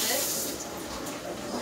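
Tap water runs steadily while something is rinsed off in a home kitchen during breakfast cooking, a continuous close hiss filling the short moment with no talk over it.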